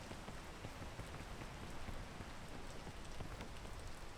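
Steady rain falls in a video game, a dense, even hiss of drops hitting surfaces that runs without pause from start to finish with no voices over it.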